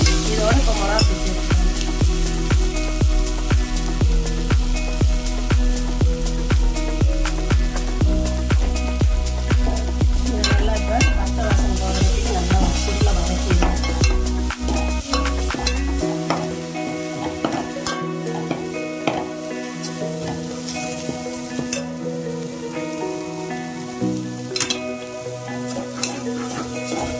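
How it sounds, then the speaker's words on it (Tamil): Masala for a spicy crab gravy sautéing in a pan, a loud continuous sizzle with a regular scraping stir at first, then looser stirring and clinks over a steady hum. "நல்லா ஃபுல்லாக வதக்கிடுங்க"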